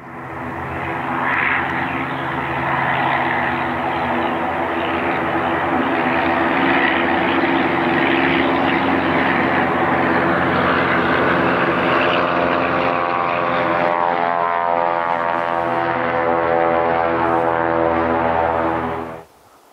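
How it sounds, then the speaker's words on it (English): Rugged propeller bush plane taking off from a grass airfield in remote river country, its engine droning loud and steady with strong harmonic tones for nearly twenty seconds before cutting off abruptly. "We arrived just in time to witness one of the rugged bush planes taking off from the grass field."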